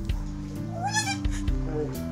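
A goat at a zoo lets out a single wavering bleat, close and clear, over a steady backdrop of music.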